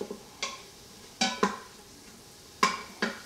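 Jalapenos sauteing in a pot for white chicken chili, heard as scattered scraping stirs and light clinks of a utensil against the pot, close by, over a faint sizzle with no talking.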